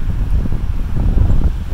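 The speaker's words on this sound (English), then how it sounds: "it's pretty windy." Gusty wind rumbles against the microphone in a loud, low, buffeting roar for a brief moment, with no one speaking, outdoors while searching for shed elk antlers.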